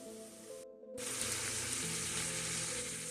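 Ground beef frying in a pan for homemade lasagna, a steady broadband sizzle that thickens after a brief silent gap, with a low hum from the kitchen underneath and no talking.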